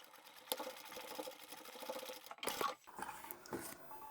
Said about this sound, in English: I'm just stitching in about 1/4 of an inch from the edge.